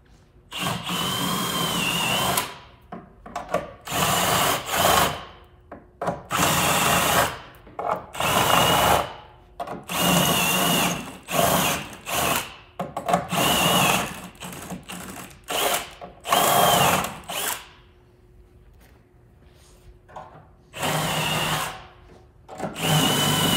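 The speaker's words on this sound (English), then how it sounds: "gonna use a step bit for that just because it's easier in this situation, but you could use a regular bit as well" A power drill with a step bit enlarges bolt holes through a Dodge Ram truck bed floor while a swivel loading ramp is installed, running in repeated short bursts of whirring and grinding separated by quiet pauses.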